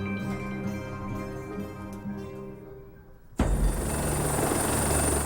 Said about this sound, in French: À l'arrière du navire, un hélicoptère Panther de fabrication française.